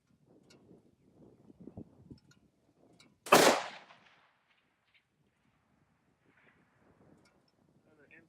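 A Tikka T3x TAC A1 rifle fires a single loud, sharp shot at steel targets on a windy range, followed by a short fading rumble, with quiet talk heard before it.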